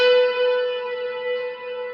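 Sustained electric guitar note with echo and reverb effects, rich stacked harmonics ringing steadily with slight pitch glide, played alone and fairly loud, from a tutorial on a live song.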